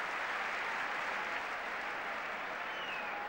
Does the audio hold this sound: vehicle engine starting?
no